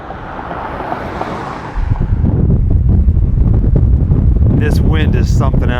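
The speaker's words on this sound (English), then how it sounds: "This wind is something else." Strong wind buffets the microphone outdoors in New Mexico, a steady low roar that jumps louder partway through and keeps rumbling; a voice briefly speaks near the end.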